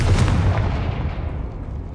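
A Confringo fire spell in the video game Hogwarts Legacy goes off as a single loud, deep blast that booms and then fades away over about two seconds.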